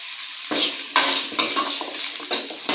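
Tomatoes sauté with a little salt in a pan for sambar and are stirred with a metal spoon, giving close, repeated clinks and scrapes over a soft sizzle, with no talking.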